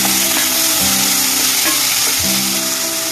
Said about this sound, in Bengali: এবার দিয়ে দেবো এই টমেটো কুচিগুলো, ভালো করে ভেজে নেব